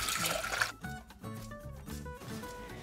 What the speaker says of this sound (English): We're gonna place 5 cups of water into a saucepan.